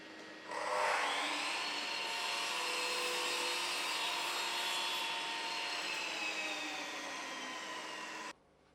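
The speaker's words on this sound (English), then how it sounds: "Adjust the chop saw to the same angle as the sliding bevel and cut an internal mitre on the" A chop saw cuts an internal mitre on a length of wooden skirting board: the motor spins up sharply, then holds a loud, steady whine with gritty cutting noise for about eight seconds before stopping abruptly, with no talking.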